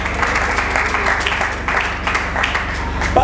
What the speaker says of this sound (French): Est-ce qu'on peut acclamer pour le pasteur Julien Timba?